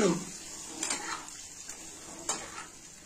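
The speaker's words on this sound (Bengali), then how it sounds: "এবার ভালো করে মিক্স করে নিই।" Egg tadka with mutton being stirred in a pan: a few scraping and clinking spoon strokes against the metal over a soft continuous sizzle, close and fairly quiet, with no talking.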